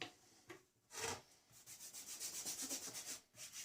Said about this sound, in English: basically you rub an area on there